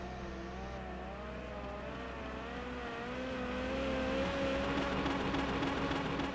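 Ferrari 355 race car engine in a racing game, a sustained high-revving wail that climbs and shifts pitch as it rounds a final corner, steady and close, growing slightly louder toward the end.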